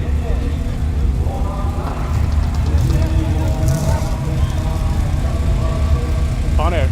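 Pontiac car engine running with a low, steady rumble at a car gathering after a Mustang burned, close and continuous while people talk nearby.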